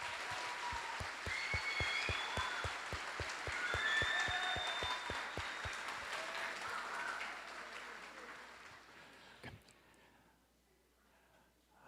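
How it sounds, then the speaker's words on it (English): An audience at an 8th grade graduation ceremony claps loudly and steadily for about nine seconds, with a few cheers mixed in, before the applause fades away to near silence. "So let's give her a well-deserved round of applause."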